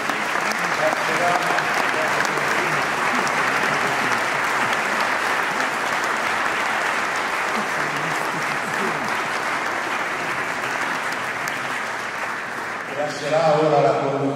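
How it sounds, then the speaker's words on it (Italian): Audience at a university choir Christmas concert applauds the choir, loud continuous clapping filling a hall for several seconds before it cuts and a voice starts speaking near the end. "Un grandissimo applauso poi al coro"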